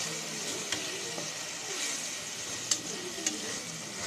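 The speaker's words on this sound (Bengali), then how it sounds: "এক চামচ রসুন বাটা, আদা বাটা। এগুলো আমি ভালো করে ভেজে নেব।" Garlic and ginger paste fry in a pan with a steady, soft sizzle and an occasional faint stirring click, heard close up with no talking.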